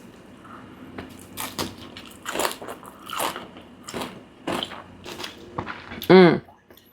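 Crunchy air-fried tofu in a vegan Pad Thai salad with noodles and peanut sauce is bitten and chewed close up, several soft crunching bites, with one loud crisp crunch near the end, between bits of talk.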